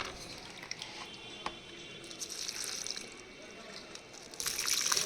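Water trickles and drips in small amounts onto the soil around potted jasmine plants, a soft, steady wet pouring sound close by.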